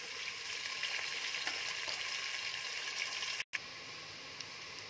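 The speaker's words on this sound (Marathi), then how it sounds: "आता तेलावरती हा कांदा चांगला परतून घ्यायचा आहे" Onion frying in oil for chicken biryani makes a steady, dense sizzle close by. The crackle holds through the whole stretch and drops out only for a brief moment before carrying on.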